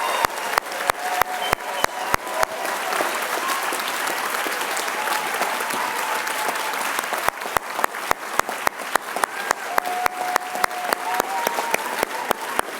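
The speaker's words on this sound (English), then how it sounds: "Let's give him a round of applause." A large audience at a Harvard Medical School commencement claps in sustained, dense applause, loud and continuous, with some sharp individual claps near the start and end.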